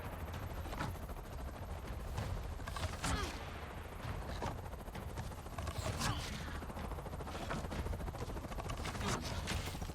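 Gunfire in the Avatar Frontiers of Pandora game, with rapid repeated shots and bursts that keep going across the whole stretch, fairly faint but steady, mixed with mechanical noise and occasional talk.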